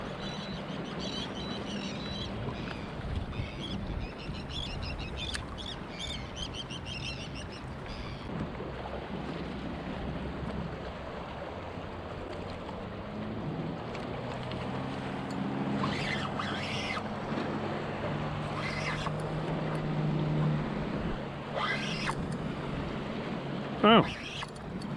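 Boats drone past over choppy water, with wakes sloshing and slapping and a steady wind rushing across the microphone.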